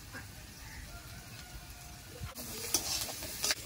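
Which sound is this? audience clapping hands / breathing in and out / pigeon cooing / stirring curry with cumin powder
stirring curry with cumin powder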